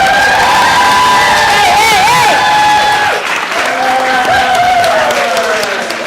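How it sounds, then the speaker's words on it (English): An audience at a dance festival claps and cheers loudly and continuously, with whoops rising over the applause and tones sounding underneath. "let's clap it up for everybody one last time"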